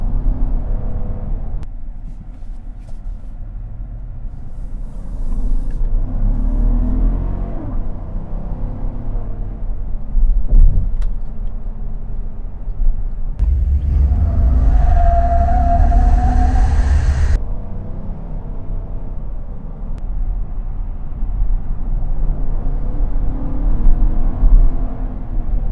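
A Chevy Silverado Z71 pickup truck accelerates hard from a stop toward 60, its engine rumbling and whirring steadily with a louder rising surge midway as the transmission kicks down, heard from inside the cab.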